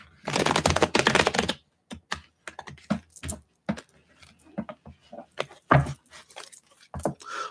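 A deck of tarot cards is shuffled up close: a dense, loud riffle of rapid card clicks at first, then scattered taps and flicks as the cards are squared and shuffled again.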